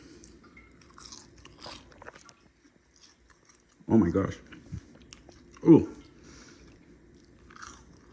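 A crunchy snack is bitten and chewed up close, with two sharp, loud crunches a couple of seconds apart. Someone speaks briefly between the bites.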